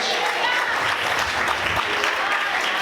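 A church congregation applauds with loud, dense clapping that runs unbroken, with murmured voices underneath.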